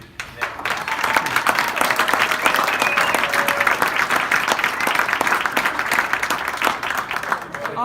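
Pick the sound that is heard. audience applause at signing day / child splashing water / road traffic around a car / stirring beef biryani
audience applause at signing day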